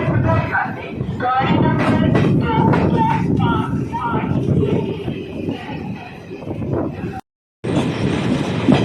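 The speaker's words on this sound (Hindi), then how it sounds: "Departure from Jalandhar city junction railway station." A Jan Shatabdi Express train pulls out of Jalandhar City Junction station, giving a steady loud rumble of rolling cars with faint wheel clatter and some squeal. Background voices are mixed in, and there is a brief cut near the end.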